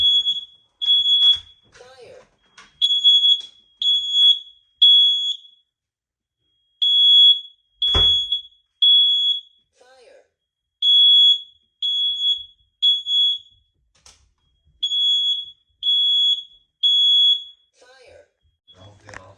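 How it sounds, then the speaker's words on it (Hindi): A home smoke alarm goes off at night in a repeating pattern of shrill high beeps in short bursts separated by pauses, loud and close, with a thump partway through and no talk. "अचानक से ये फायर अलार्म जो है बज गया"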